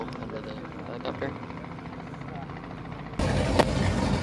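Steady thumping drone of a helicopter's rotor and engine, fairly distant at first, then growing abruptly louder and closer near the end.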